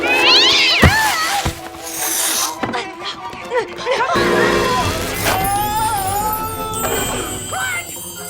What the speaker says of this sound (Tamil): அப்புறம் ஒரு பூனையும் இருக்கு. என்ன பூனையா?